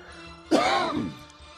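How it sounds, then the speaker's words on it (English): A single close, rough cough that trails off into a raspy throat sound over a quiet background hum. "Nice cough"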